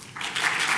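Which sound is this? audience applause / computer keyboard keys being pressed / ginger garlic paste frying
audience applause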